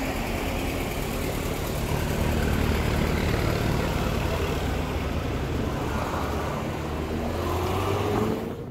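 A car engine hums steadily and fairly loud throughout as the vehicle pulls away from the BMFest grounds, with a mild pitch change toward the end and no talk.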